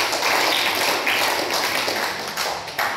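A church congregation breaks into hearty applause for God, a dense, loud wash of clapping that fills the space for a few seconds.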